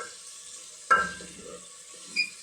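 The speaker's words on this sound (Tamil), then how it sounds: "கொஞ்ச நேரம் அப்படியே வதங்கட்டும்." Spices sauté in a pan while sambar is cooking, giving a soft, steady sizzle. A sharp clatter of stirring cuts in once, and a faint clink comes near the end.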